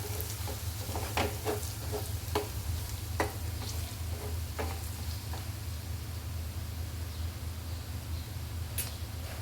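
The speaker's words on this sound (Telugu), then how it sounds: "అల్లం ఎల్లిగడ్డ వేసుకోవాలి ఇప్పుడు ఇప్పుడు కొద్దిగా పసుపు వేసుకోవాలి బాగా మిక్స్ చేసుకోండి" Ginger, garlic and turmeric are stirred into onions frying in a pan, with a quiet, steady sizzle and light scraping taps from the spoon throughout.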